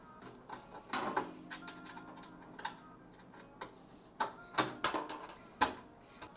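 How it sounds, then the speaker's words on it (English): A small tool works motherboard standoffs into a PC case, giving scattered light metallic clicks and ticks up close, irregular and sharper toward the end, with no talk. "using this little tool right here, I'm going to move the standoffs to the correct spots."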